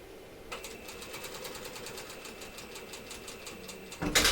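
A sewing machine stitches a seam on a bathing suit with a steady, rapid mechanical chatter that runs for several seconds, close and moderately loud, ending in a louder handling noise.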